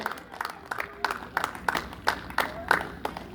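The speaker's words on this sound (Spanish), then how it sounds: "Le damos un fuerte aplauso al Padre, al Hijo y al Espíritu Santo de Dios" Scattered, uneven clapping from a church congregation at an evangelistic campaign closing, with a voice carrying faintly over the claps.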